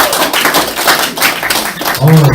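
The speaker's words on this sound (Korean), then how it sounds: "박수 한번 해주십시오." A crowd at a campaign office opening claps loudly and briskly, a close burst of many hands ending as a voice starts over it.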